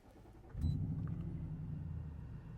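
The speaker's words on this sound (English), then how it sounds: "Now turn the car on" A car engine starts, cranking briefly and then settling into a steady low idle rumble, close and fairly quiet.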